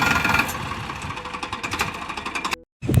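A tractor engine runs close by with a steady, knocking idle and a buzzing vibration. It cuts out briefly near the end before the sound returns.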